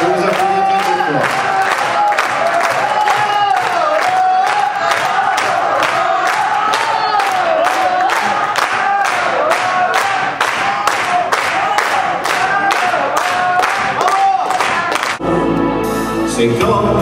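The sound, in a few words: audience applauding after the show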